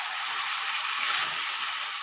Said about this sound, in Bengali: মশলাগুলো একটু ভাজা হয়ে গেলে এর মধ্যে পেঁয়াজ বাটাটা দিয়ে দিলাম।